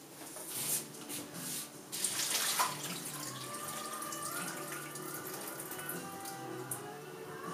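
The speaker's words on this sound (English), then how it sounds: "So I'm going to drain these off" Water runs from a tap into a sink while soaked beans are drained for a white chilli, a steady rushing and splashing that swells after a couple of seconds and continues evenly, no talking.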